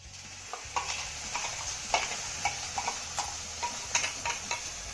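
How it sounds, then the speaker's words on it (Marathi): A spoon stirs a ground spice paste into roasted besan in a pan, scraping and tapping in quick, uneven strokes over a soft background sizzle. "घातलेलं वाटण चांगलं मिक्स करून घेऊया"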